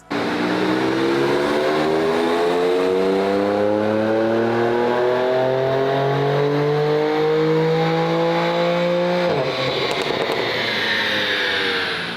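A 2023 BMW G87 M2 running on a dyno, its engine climbing steadily in pitch through a long, loud, sustained full-throttle pull for about nine seconds, then dropping sharply as the throttle lifts.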